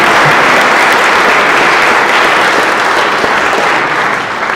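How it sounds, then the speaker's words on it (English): A large audience applauding loudly at a keynote talk, dense sustained clapping that fills the whole moment without a break. "I think that deserves a round of applause."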